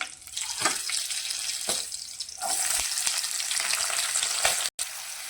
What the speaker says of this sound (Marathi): घेतलेल्या मिरच्या हे चांगलं तेलामध्ये फ्राय करून घेऊया आणि त्यानंतर कांदा एकदम ब्राऊन होईपर्यंत आपण तळून घेऊया